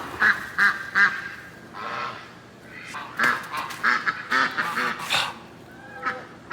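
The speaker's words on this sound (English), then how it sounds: "Next thing you know, we got 15 geese and ducks." Backyard geese and ducks call out with a string of loud, nasal quacks and honks in uneven bursts close by, mixed with short squawks and brief pauses.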